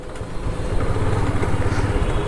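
Motorcycle engine running steadily while riding, a continuous low drone holding even throughout with no pauses.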